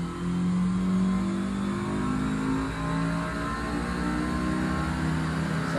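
A Honda S2000 with 218,000 miles, hot after earlier runs, revs steadily on a dynamometer, its engine droning loud and close with a rising whine under the continuous roar.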